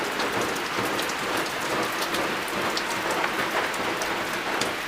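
Steady, heavy rain pours down continuously on a farm in the mountains, a dense hiss of drops hitting surfaces, with no voices.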